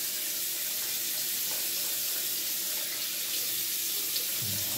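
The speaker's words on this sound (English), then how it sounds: "So first I put water on my face." A tap runs steadily at close range while someone wets their face before shaving, making an even, hissing stream of water with no break.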